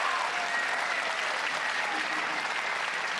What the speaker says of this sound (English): an applause for Alliance, I think, might be in place